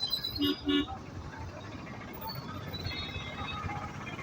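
A city road is jammed with holiday traffic as two short car horn toots sound close together near the start, followed by a steady, fairly faint rumble of vehicles.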